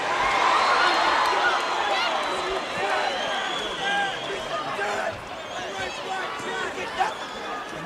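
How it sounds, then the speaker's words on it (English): A large arena crowd at a Boston Garden wrestling event roars and cheers for wrestler Blackjack Mulligan, a sustained dense ovation of shouts and whistles with a commentator's voice over it. "Mulligan got a great ovation from the crowd here"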